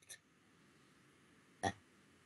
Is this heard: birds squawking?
no